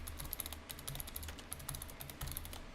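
Rapid keystrokes on a computer keyboard while a command is entered into a cryptocurrency wallet's debug console, a steady close clatter of light clicks lasting the whole stretch with no voices.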